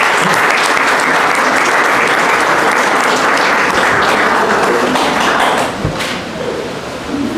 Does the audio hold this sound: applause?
yes